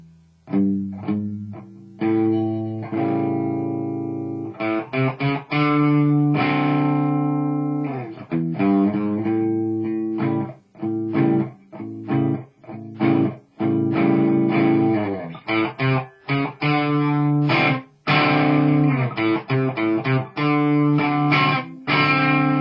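An electric guitar played through a Boss Blues Driver overdrive pedal into a Peavey ValveKing tube amp gives a run of distorted chords and single notes with short pauses. It is loud and close, and nobody speaks.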